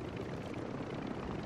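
A helicopter in the Call of Duty video game drones steadily with a broad, constant rotor and engine rumble, moderately loud and unbroken throughout.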